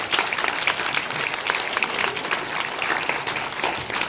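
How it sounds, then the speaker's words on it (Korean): Steady, dense applause from a large church congregation, continuous clapping throughout without pause. "감사의 박수 한번 부탁드리겠습니다"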